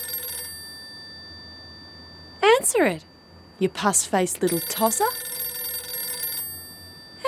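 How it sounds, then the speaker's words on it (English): A telephone rings with a steady electronic trill that runs beneath the whole scene. Someone speaks loudly and angrily over it in bursts. "Phone's ringing"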